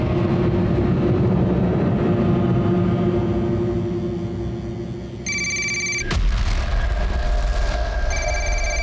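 Telephone ringing with a steady electronic ring tone that starts partway through over a background drone, stopping briefly then resuming, loud and close.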